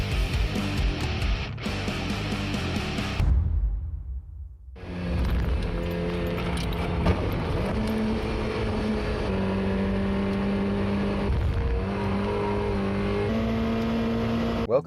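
1991 Mazda MX-5 Eunos Roadster, Japanese-market version, driving with a continuous engine hum. The sound cuts out briefly partway through, then the engine drone resumes, steady and moderately loud.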